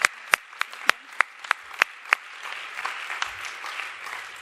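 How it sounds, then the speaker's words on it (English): Applause at an award event, starting with a handful of crisp, evenly spaced close claps that give way to a softer, scattered patter of audience clapping. "A clap to her."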